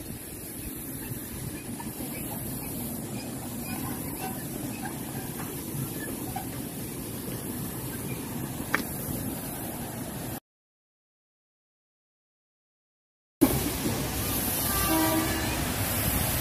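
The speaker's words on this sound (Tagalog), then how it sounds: "The train is coming. Train, choo-choo. The old train." An old train on the Shifen railway approaches with a steady rumbling hiss, a brief horn-like blip, then a gap of silence before the rolling noise resumes with a rising whistling tone.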